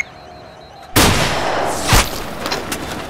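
A sharp, loud gunshot cracks out after a quiet start during an armed attack on security forces in Egypt, followed by a second blast and scattered echoing reports fading in a noisy outdoor space.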